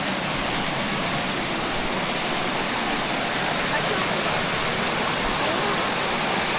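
Steady, loud roar of Hin Tang waterfall in Nong Wua So, Thailand, a dense broadband rush of falling water filling the whole scene without letup.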